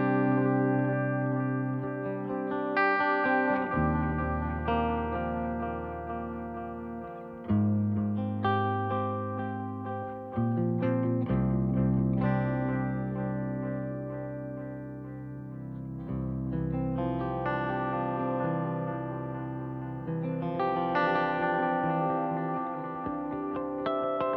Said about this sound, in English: This is straight in to the Dapper, and you're just going to hear the analog delay.